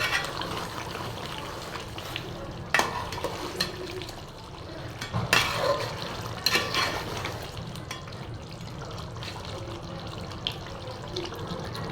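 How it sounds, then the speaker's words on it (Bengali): Spiced domestic goose meat is stir-fried in a pan in its own juices with no added water, the lid lifted now and then. A steady wet sizzle runs throughout, broken by several sharp spatula scrapes and clinks against the pan. "তো এই তো আমি ঢাকনা খুলে খুলে আমি কষাচ্ছি।"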